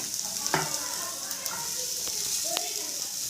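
Rice with egg masala being stirred in a hot pan, a continuous sizzle with scattered spoon scrapes and clinks over a few seconds.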